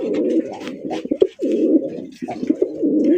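Pigeons at a pigeon sale, including racing and rasgolla-coloured birds, coo in repeated low throaty bursts, close and fairly loud, with short gaps between calls and no speech.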